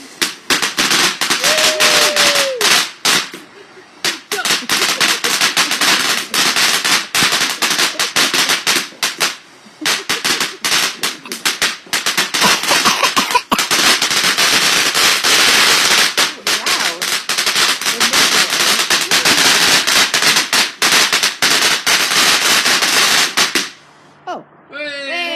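Bonfire night fireworks burst in a dense, continuous barrage of loud crackling bangs and rapid pops for over twenty seconds, with voices nearby and a brief rising whistle early on, ending in a quieter tail.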